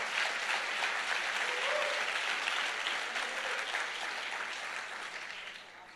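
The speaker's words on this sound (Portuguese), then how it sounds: "Quer aplaudir? Aplaude Jesus." A church congregation at a Portuguese-language service applauds for Jesus, with sustained dense clapping from many people that stays loud and then gradually fades toward the end.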